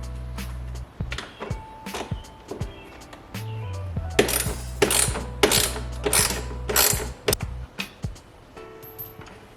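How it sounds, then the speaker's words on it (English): A ratchet clicks and whirs in short bursts while 8mm bolts come out of a C8 Corvette's engine bay, with scattered metallic taps and handling noises, close and clear. "Time to go ahead and remove these bolts,"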